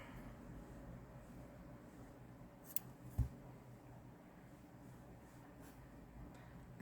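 Scissors cut through crochet yarn in one short, crisp snip, with a faint click just before it, against a quiet, steady background.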